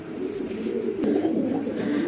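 Imported Lahori pigeons coo inside a loft, a continuous overlapping murmur of soft, low throaty calls from several birds close by, with no speech.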